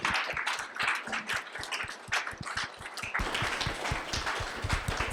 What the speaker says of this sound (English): can everyone please give Angela a round of applause